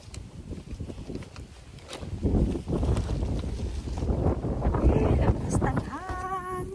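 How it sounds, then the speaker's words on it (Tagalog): Strong wind buffets the microphone with heavy, gusting rumble that builds over several seconds; a voice speaks briefly near the end. "Lakas ng hangin."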